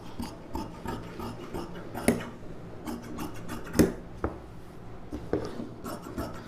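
Scissors cut through silk saree blouse fabric up close in a steady series of soft rasping snips and rubs, with a few sharper crunches standing out, and no talk over them.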